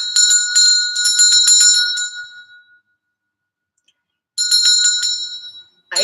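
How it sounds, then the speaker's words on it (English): A small hand bell rings bright and clear in a quick run of strikes, fades into silence, then rings again in a second burst with a brief final tap, close by and alone. "I love my little bell."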